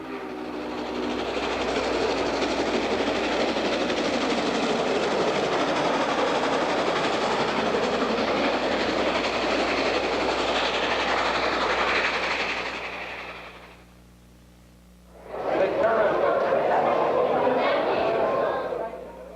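Steam locomotive N&W 611 rumbles loudly past with a rhythmic chugging and clatter, fades briefly, then a second loud burst of passing train noise returns.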